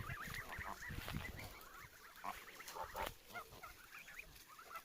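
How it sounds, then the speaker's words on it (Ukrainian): Several geese and goslings of different ages honk and cackle close by, a chorus of overlapping nasal calls with softer higher peeps mixed in, coming in irregular bursts. "Показую вже як підросли гусята."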